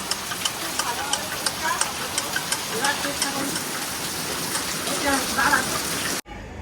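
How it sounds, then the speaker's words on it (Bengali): Steady patter of light rain on a surface, with small regular ticks of drops, soft and continuous before cutting off abruptly at the end. "হালকা হালকা বৃষ্টি পড়ুক"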